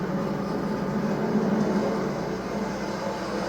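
A steady, dense roar of NASCAR Cup Series stock cars racing at Richmond fills the air continuously, a broad engine drone with no breaks and no voices.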